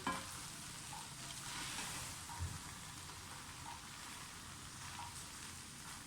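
Chicken vegetable spaghetti sizzles steadily in a frying pan while being stirred, a continuous close hiss with faint scraping and no voices.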